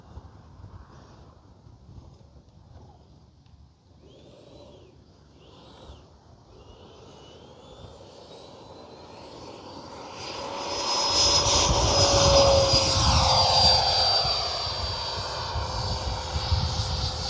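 A Freewing 90mm F-22 RC jet with an afterburner flies overhead. At first it is a faint, distant whine with wind noise, then the turbine swells into a loud, rising roar that stays strong to the end.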